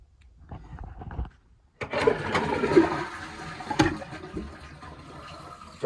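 Toilet cistern refilling after a flush, a soft gurgle first, then a rising rush of water that fills the tank before shutting off, close and moderately quiet.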